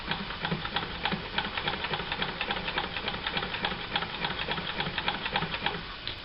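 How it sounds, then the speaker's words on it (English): Vintage sewing machine running steadily with an edge foot, stitching trim along a hemline edge; a fast, even mechanical chatter of needle strokes continues without pause at close range. "Okay, start sewing."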